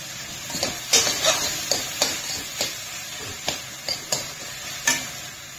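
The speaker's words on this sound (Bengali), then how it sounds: "ততক্ষণ অবধি নাড়িয়ে করতে থাকবো যতক্ষণ না পুরোপুরি টমেটোটা সিদ্ধ হয়ে যায়।" A utensil stirs tomatoes cooking in a pan, making close scraping and clacking strokes at an irregular rhythm over a faint sizzle, with no talk.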